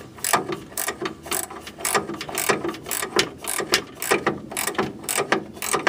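Ratchet wrench clicking steadily in quick repeated strokes while backing a bolt out of the front end of a 1966 Ford Thunderbird, close and clear with no talk.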